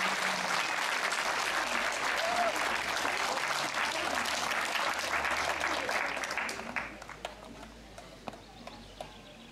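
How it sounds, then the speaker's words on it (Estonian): An outdoor audience at a village song and dance festival in Estonia gives a big round of applause, dense clapping that thins out after about six seconds into a few scattered claps. "nii et teeme Üllele ühe suure aplausi veel."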